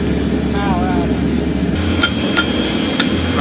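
Sharp hammer blows ring out on hot steel as a knife blade is forged, three or four distinct metallic strikes spaced about half a second apart after a brief pause, with a faint hum beneath.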